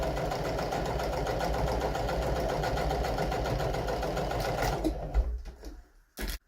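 Sewing machine running steadily at speed while stitching a lap seam through layered fabric, a fast even mechanical whir lasting about five seconds before it slows and stops, followed by near quiet.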